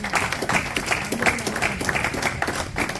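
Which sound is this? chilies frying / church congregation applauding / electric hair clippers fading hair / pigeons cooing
church congregation applauding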